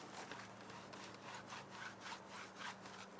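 A microfiber towel doused with cleaner scrubs tire dressing off the tire of a Shelby GT350R, a quiet, rhythmic back-and-forth rubbing with repeated strokes, close and alone.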